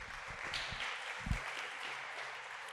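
A church congregation applauding, a faint, distant patter of many hands clapping steadily with a few low thumps, heard alone without talk.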